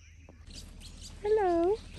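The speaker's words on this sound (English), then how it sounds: "Anyone know what this bird's called?" A bird in Uganda gives a single loud, clear call lasting about half a second, rising then falling in pitch, outdoors against a background of low murmuring voices and faint ambient noise.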